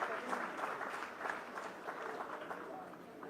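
An audience in a hall claps during a welcome address at an ICCR Foundation event, a close, dense, steady round of applause that fades slightly toward the end.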